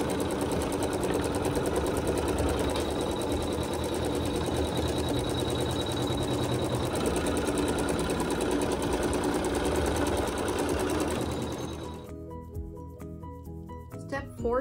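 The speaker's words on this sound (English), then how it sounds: "we'll just hit the start button, and it sews that stitch to tack it all together" An embroidery machine sews a tack-down stitch through the fabric layers of a quilt block, a steady, loud mechanical whir with rapid needle rhythm that winds down near the end into a few faint clicks.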